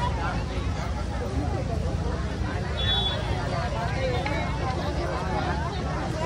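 Dense crowd hubbub at the Kelamba Devi temple during the Navratri festival, a steady wash of many overlapping voices with faint traffic behind it, continuous from start to finish.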